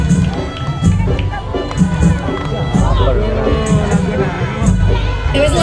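Large crowd at a night carnival parade stage in Sampang cheering and clapping, a loud, continuous roar of voices with shouts and whoops and scattered bursts of claps throughout.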